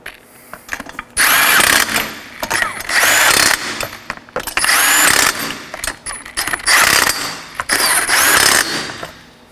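Wheel fasteners on a 2013-2019 Nissan Sentra are tightened in a crisscross pattern, loud close bursts of a power tool whirring and ratcheting, separated by short pauses.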